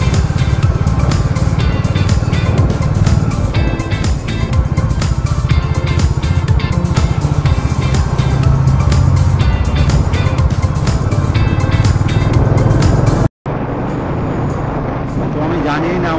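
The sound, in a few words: motorcycle riding on highway, onboard noise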